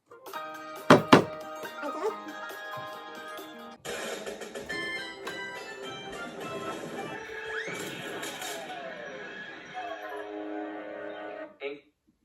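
Twin engines Donald and Douglas smash into Trevor's cart with a sharp crash and thunk early on, then steady orchestral music plays on.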